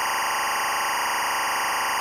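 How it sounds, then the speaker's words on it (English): A linear timecode (LTC) signal from a Tentacle Sync unit plays as a constant, harsh, buzzing digital tone at an even level for two seconds, on its own. "If you've ever wondered what linear timecode sounds like, it sounds like this."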